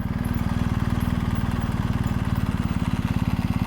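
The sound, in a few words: motorcycle engine running while riding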